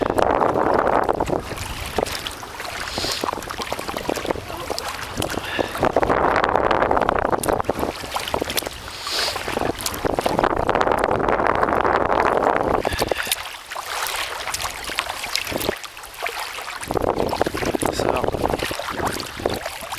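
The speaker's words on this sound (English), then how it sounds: "A bit windy though." Strong wind buffets the microphone in continuous gusty roars, rising and falling over a broad rushing noise, with no voices.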